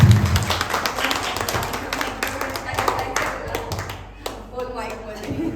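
Audience applause at a certification-day ceremony for beauty course graduates, steady clapping filling the room from the start and thinning out over several seconds, with a voice speaking over it.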